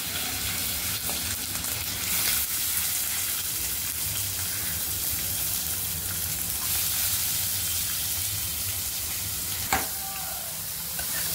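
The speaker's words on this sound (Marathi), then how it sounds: "1 चमचा मोहरी टाकूया, थोडासा कढीपत्ता टाकूया आणि कांदा" Mustard seeds, curry leaves and onion hit hot oil in a pan and sizzle loudly and evenly throughout, a dense frying hiss with a few brief crackles and no voices.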